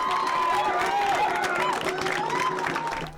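A crowd cheers and claps in a steady, loud roar as Kyra Wilson is elected Grand Chief of the Assembly of Manitoba Chiefs, with scattered shouts and voices rising above the din throughout.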